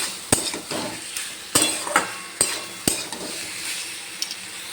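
Fried kohlrabi and potatoes are stirred into a spice masala in a pan, with a sizzle under a series of sharp spatula knocks and scrapes against the metal, roughly one every half second, close and clear with no voices.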